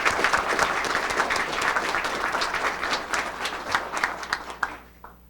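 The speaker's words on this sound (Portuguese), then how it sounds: "Bem, eu acho que Ayrton Prado merece uma salva de palmas aí pelo trabalho realizado." Seminar audience applauding, a full steady burst of many hands clapping that holds strong, then thins into scattered claps and fades out at the end.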